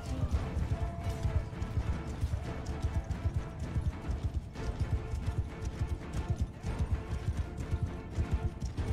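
Horses gallop with steady, dense hoofbeats and an occasional neigh during a cavalry charge in the video game Mount & Blade 2: Bannerlord, loud and continuous throughout.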